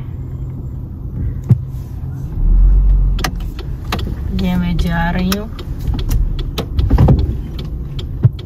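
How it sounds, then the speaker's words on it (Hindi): A car rolls slowly to be parked, its engine a low rumble beneath someone speaking, with clicks, thumps and a brief whirring motor like a power window along the way. "गाड़ी को पार्क करने के लिए"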